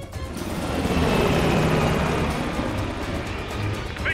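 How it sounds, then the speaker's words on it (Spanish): A helicopter in Call of Duty Cold War thunders close by with a loud rotor chop and engine whine, swelling then gradually thinning as it pulls away, with no speech over it. "¡El helicóptero se escapó!"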